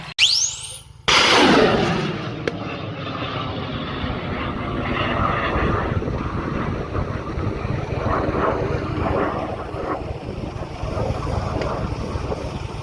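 A Strela air defense system fires at a drone on the front line. A sharp blast opens the clip, followed by a sustained, loud roaring whoosh that carries on steadily outdoors with wind noise.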